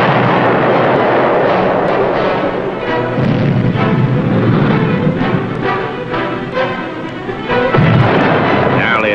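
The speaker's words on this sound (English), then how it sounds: "firing a full spread, most of the torpedoes finding their way to a target" Submarine torpedoes striking and exploding against merchant ship targets during a World War II wartime attack, heard as a dense, continuous roar of booming blasts and rumbling detonations, loud and sustained throughout.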